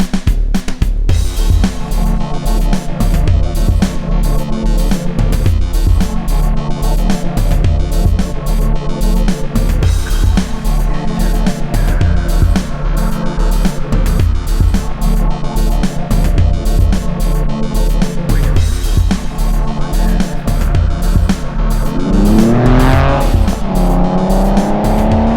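A Porsche 911 is driven on new brake pads, with a loud, steady car and road rumble close up. A rising squeal near the end fits the brakes squealing.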